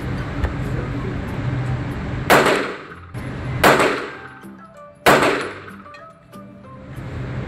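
A Bul Armory pistol fires three sharp shots from a three-round magazine, spaced about a second and a half apart, each a loud close crack with a short ringing decay over faint background noise.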